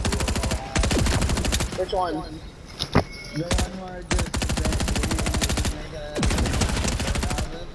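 Rapid automatic gunfire in the Fortnite video game, firing in long dense bursts broken by short pauses, loud and close, with brief voices talking in between.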